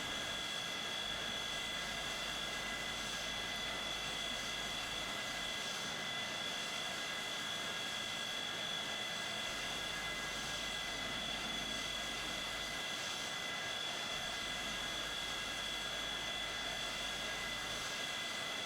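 Aircraft engines in the flight simulator game Microsoft Flight Simulator X keep up a steady droning hum with a faint whine through the whole stretch, constant and unbroken, while voices chat in the background.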